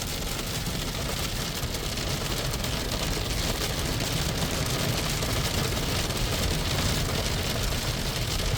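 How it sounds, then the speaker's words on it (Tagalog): Heavy rain mixed with hail pounds down steadily in Hong Kong, a dense, unbroken roar with a low rumbling undertone throughout. "Sobrang lakas ng ulan."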